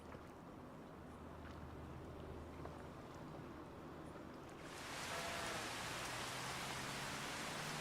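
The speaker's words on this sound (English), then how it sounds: "Oh, rain. I guess rain's good." Rain falling in Farming Simulator 25, a quiet ambient bed that suddenly swells into a dense, even hiss of rainfall about five seconds in and stays steady, no voices.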